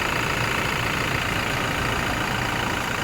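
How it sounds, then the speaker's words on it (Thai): An automatic Revo 2.4E Plus pickup truck engine idles steadily and smoothly, a constant low rumble with no revving or variation. "เครื่องนิ่งๆนะเสียงเพาะๆแบบนี้เสียงใสๆนะครับ"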